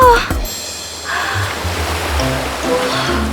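Seaside ocean waves wash in a steady, broadband rush with a low rumble throughout, fairly close and continuous, with faint breaks of voices and movement in the mix.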